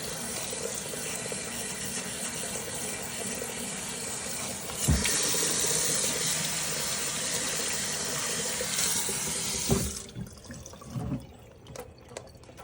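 Steady running hot water sprays and rushes for several seconds from a Sanitaire SC930A Hydroclean hard floor washer being rinsed, hissing brightly, then cuts off, leaving a few faint drips and knocks.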